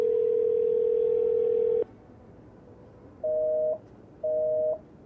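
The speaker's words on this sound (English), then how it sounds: "Let me just call my phone buddy." A telephone tone heard while placing a call: one long steady tone that cuts off, followed after a pause by two short evenly spaced beeps, clear and close with no talking.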